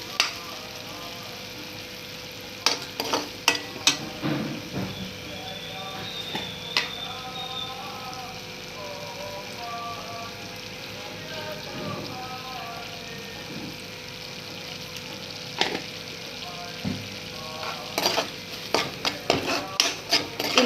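Chicken pieces for Chicken Manchurian frying in thick sauce and stirred, with a steady soft sizzle broken by sharp scrapes and clatters of a spoon against the pan, close by throughout.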